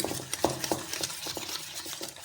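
A spoon stirs and scrapes spices and asafoetida through a thick gram-flour and yogurt mixture for kadhi in a bowl, quick repeated knocks and swishes close by, no talking.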